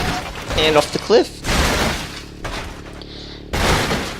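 A car plunging off a cliff in the BeamNG.Drive driving game, rallycross setup, ending in several loud crunching, shattering impacts and a booming thud, with someone talking over and between the hits.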